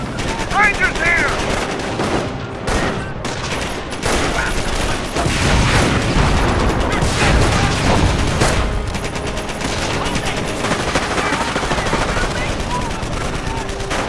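Sustained gunfire in the strategy game Company of Heroes: Tales of Valor: rapid machine-gun bursts and rifle shots crackle almost without pause through a dense battle soundscape, with soldiers' voices calling out over it.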